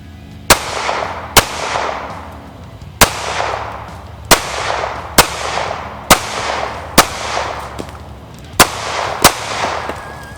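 Ruger Security 9 pistol fired at targets on a shooting range: about ten sharp, loud, close gunshots at irregular intervals, each with a short ringing tail, and no talking.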